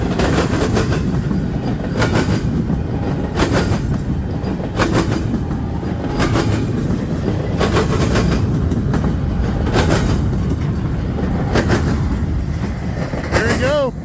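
A CSX freight train rolls past close by, a loud continuous rumble broken by regular clattering wheel beats over rail joints, with a brief squeal near the end.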